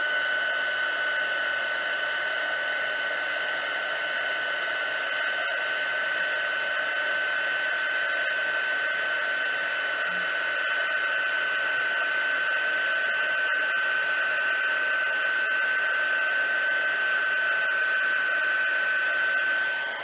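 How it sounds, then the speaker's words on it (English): Craft heat tool blowing hot air, a steady high-pitched electric whine with an even rushing hiss that holds at a constant level for the full twenty seconds, close and uninterrupted. "When these heat tools get heated up, they really are quite hot, and you don't want to hurt your fingers."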